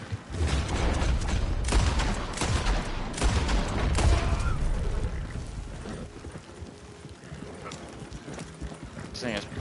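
Horse hooves gallop in the Red Dead video game, a loud rapid clip-clop mixed with bursts of gunfire and game effects, while a player talks over it.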